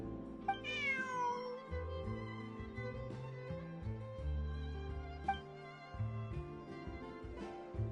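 A cat meows in a video game, with one drawn-out meow followed later by shorter mews, all set over steady background game music.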